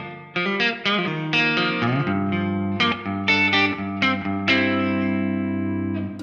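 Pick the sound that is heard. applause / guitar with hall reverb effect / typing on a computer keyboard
guitar with hall reverb effect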